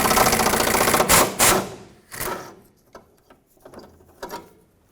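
A ratchet backing out a 10mm bolt on the rear bumper impact absorber of a 2009-2014 Ford F-150, with loud rapid clicking bursts at first, then quieter intermittent ratchet clicks and tool handling.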